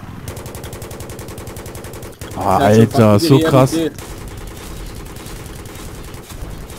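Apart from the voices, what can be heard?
AH-1Z helicopter cannon firing in video game Battlefield 3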